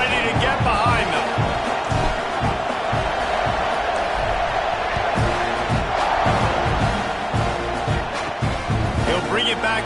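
A packed football stadium crowd at Texas A&M versus Oklahoma cheers loudly and continuously, a dense roaring wash with shouts rising and falling, while an announcer talks over it.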